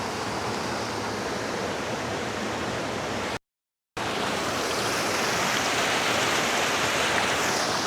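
Steady, loud rush of a clear, cold river running over rocks close by, with a brief total dropout partway through.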